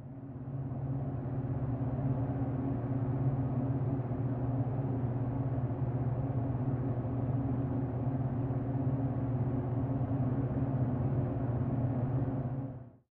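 Steady low droning ambience inside a gas station toilet, likely from a fan or ventilation, constant and close with a dull hum, fading in at the start and cutting off abruptly at the end.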